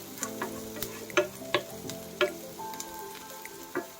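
Garlic and onion frying in a pan for chicken pastil, with several sharp spatula scrapes and knocks over a steady low sizzle, close and fairly quiet.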